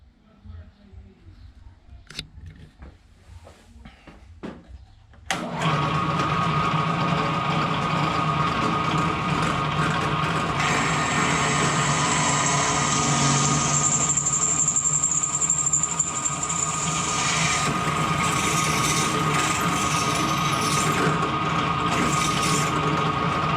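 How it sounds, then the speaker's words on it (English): After a few quiet seconds of handling noises, a drill press starts up and runs steadily, drilling holes in a mounting bracket for a Rotopax install on a 2019 Can-Am Outlander 650 Max XT, with a whining bit sound partway through. "let's get you over, set up over in the drill press, and we're going to drill these holes out"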